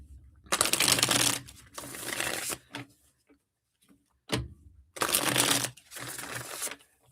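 A deck of reading cards is shuffled by hand in several quick riffling bursts, each a dense crisp flutter, separated by short pauses and small taps, close and fairly loud.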